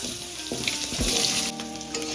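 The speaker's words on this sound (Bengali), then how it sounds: "আলুটা আমার এখানে হালকা করে ভাজা হয়ে যাচ্ছে, হালকা করে ভেজেছি দেখো" Potato pieces fry in oil in a pan with a loud, close, continuous sizzle, broken by a few brief clatters and scrapes of a utensil as they are moved around. There is no talking.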